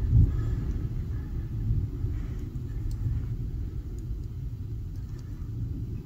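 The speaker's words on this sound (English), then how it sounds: "Thundering really hard here." Deep, continuous rumbling of hard thunder, low and steady throughout, with no talking.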